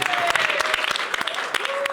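A small audience claps steadily at a festive French talk-show gathering, many sharp overlapping hand claps at moderate volume, with voices faintly mixed in.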